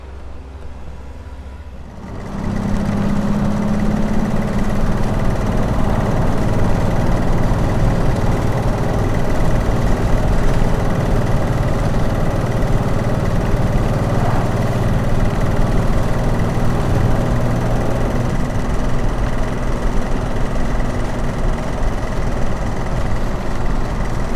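A vintage AC car engine runs steadily for a long stretch while cruising on the M54 motorway, a loud, close, even rumble that starts up after a brief quieter moment.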